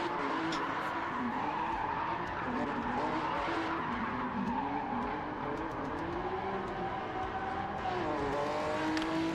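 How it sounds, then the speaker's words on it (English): Tyres screech continuously as a car spins donuts in a sim racing game, with a loud, sustained skid and engine drone and faint voices underneath. "Now he's going to do some donutses. There isn't a lot of tyre there to burn rubber on."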